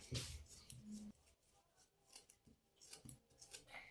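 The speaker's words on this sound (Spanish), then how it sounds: "Y ahora recorto los excedentes de la orilla." Scissors snip away excess fabric around an embroidery hoop, with several close, quiet crisp cuts and rustles of cloth in a hushed room and no voices.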